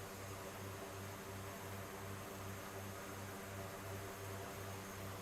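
Twin Otter DHC-6 propeller aircraft engine in the X-Plane 11 flight simulator, a steady droning hum with a rhythmic low pulsing beat and broad hiss, continuous and close throughout.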